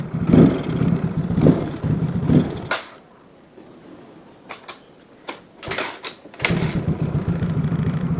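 An older Yamaha Mio scooter engine idling close and loud with a steady hum. It drops away into a quiet stretch broken by a few knocks and clicks, then the idle resumes at the same even level.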